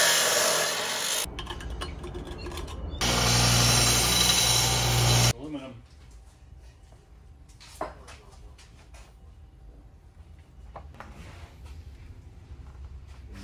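A power tool saws through a metal warm air intake pipe on a Honda CR-Z with a K24 engine, two loud harsh cutting bursts close up, followed by quieter shop clatter.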